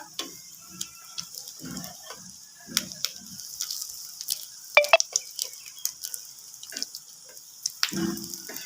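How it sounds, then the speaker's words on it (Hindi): An aloo chicken egg sandwich frying in a pan, with a soft steady sizzle under scattered clicks, taps and scrapes of a utensil against the pan, close and moderately quiet with no talk. "अब हम इसकी साइड्स को भी पका लेंगे।"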